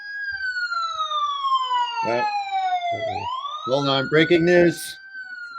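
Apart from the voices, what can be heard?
sirens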